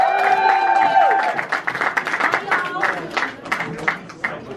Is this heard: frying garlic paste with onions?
no